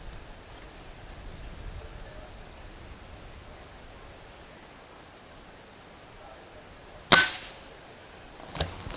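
Two shots from an SDB Sniper nitro piston air rifle, each a sharp, loud crack near the end after a long stretch of quiet background hiss, the second following about a second and a half after the first.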